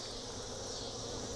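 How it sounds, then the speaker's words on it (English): A dense, steady buzzing of many honeybees at a nuc hive, close and continuous, with no other sounds. "So there's bees here"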